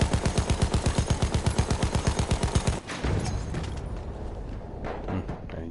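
Gunfire in a 12v12 video game match: a rapid, evenly spaced burst of loud automatic shots for almost three seconds, then scattered, more distant shots and thuds over a rumbling battlefield.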